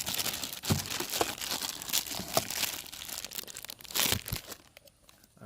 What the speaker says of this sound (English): Take out the plastic real quick.